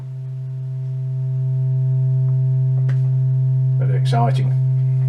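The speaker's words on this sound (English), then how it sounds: "That's what a sine wave sounds like." A steady, pure sine tone from a modular synthesizer hums continuously and loudly throughout, with a brief spoken remark and faint clicks near the end.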